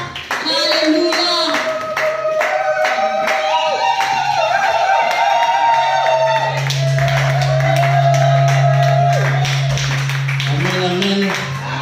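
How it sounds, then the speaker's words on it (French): A church congregation at a deliverance ministry service claps and cheers in rhythm, steady handclaps throughout with voices calling out and a sustained tone underneath, loud and close. "acclamons pour le roi de gloire"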